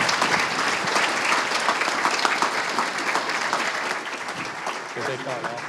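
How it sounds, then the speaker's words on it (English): Sustained applause from an audience at a live Texas public-affairs event in Waco, loud and steady throughout, thinning slightly toward the end as individual claps stand out. "Please give them a round of applause."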